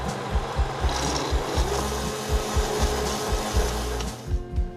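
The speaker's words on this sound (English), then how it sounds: "we're going to puree the potatoes and the fish stock, saffron, and add a little olive oil" A blender whirs in a steady, loud grind, chopping rhythmically as it purees potatoes with fish stock, saffron and olive oil into a thick mixture, with no voices.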